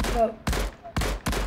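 A scoped assault rifle fires in a video game, four sharp, punchy shots in irregular succession, close and loud, with a voice speaking faintly between them.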